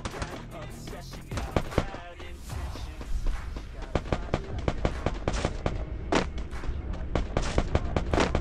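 Rapid bursts of gunfire in the video game Free Fire crack repeatedly, some shots close and sharp, others scattered, over a steady background din.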